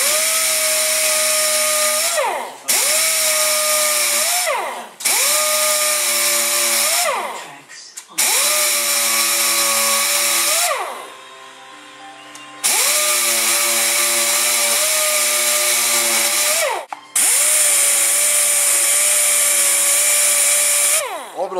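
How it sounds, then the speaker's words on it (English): A pneumatic dual-action orbital sander with 100-grit paper surfaces thermoplastic, its loud high whine running in several long bursts that cut off and restart, with brief drops and quiet pauses between runs. "Dual action sander with 100 grit paper on this to surface this"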